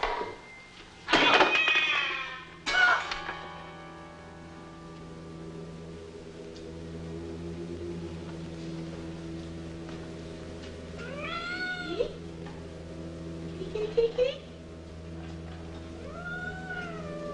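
Cat meowing indoors, a couple of sharp loud cries at the start, then several drawn-out wavering meows spaced apart over a low steady hum.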